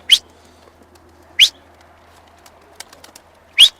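A few short chirpy pigeon calls, three clear ones spaced apart plus faint clicks between, nearby in a quiet setting.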